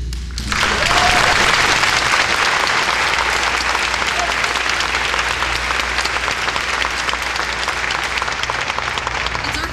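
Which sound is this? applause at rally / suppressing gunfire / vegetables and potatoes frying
applause at rally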